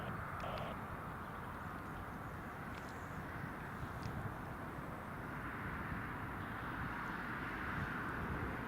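A plane landing at Newcastle airport makes a faint, distant roar of broad rushing noise that stays fairly even throughout, swelling slightly toward the end.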